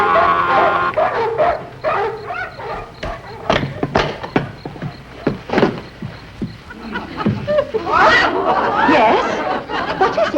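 Neighbours' dogs bark in rapid, irregular bursts, fairly close and loud, with some yips and whimpers mixed in.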